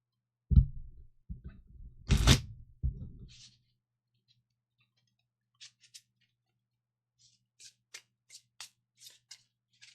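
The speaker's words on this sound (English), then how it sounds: "Let's shuffle this up a bit." A deck of playing cards is shuffled during a tabletop quest board game: a few rustling bursts build to one loud, close riffle in the first seconds, followed by faint scattered taps and clicks.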